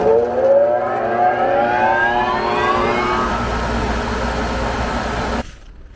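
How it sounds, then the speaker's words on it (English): Grain bin aeration fans on a farm start up and spin up, with a rising whine that climbs in pitch and is joined by a steady roaring rush. The sound cuts off abruptly near the end. "we'll turn these fans on"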